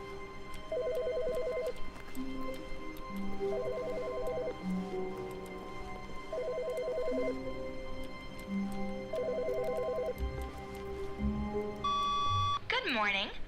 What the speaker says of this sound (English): Is it this phone?